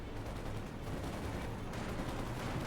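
Dense, sustained gunfire from Panzer Grenadier squads in the Company of Heroes 2 strategy game, firing at Soviet conscripts, a steady loud crackle of rifle and automatic shots over rumbling battle noise throughout.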